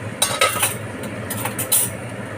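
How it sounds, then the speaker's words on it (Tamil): A metal lid set onto a pan of simmering mushroom gravy, a few close clinks and scrapes of metal in quick succession. "நம்ம வந்து கொஞ்சம் நேரம் மூடி வைப்போம்"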